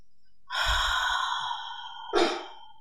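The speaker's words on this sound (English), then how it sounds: "Just take a deep breath." A single deep breath is drawn in slowly and then let out in a short audible sigh, close and soft, with no talking.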